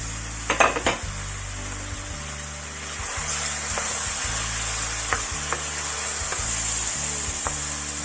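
Pieces of chicken meat stir-frying until brown in a pan for a Filipino dish, a steady sizzle under repeated scraping and clinking of a utensil against the pan, close and fairly loud.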